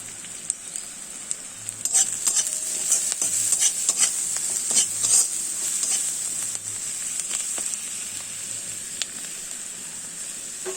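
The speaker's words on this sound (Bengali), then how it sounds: "পেঁয়াজগুলো এবার ভাজা ভাজা হয়ে গিয়েছে, একটু হলুদ দিলাম," Onions with turmeric and salt fry in a pan, a bright continuous sizzle with scattered pops and crackles, close and steady with occasional stirring scrapes.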